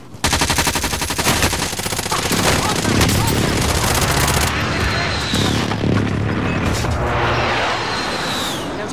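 Gunfire in the Call of Duty: Modern Warfare video game: loud, dense bursts of automatic fire and booming shots crowd together almost nonstop, with voices talking over the chaos.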